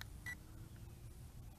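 The photo button on the remote of a Tenergy Phoenix app-controlled WiFi FPV quadcopter drone gives one short, faint electronic beep near the start, followed by quiet background hum.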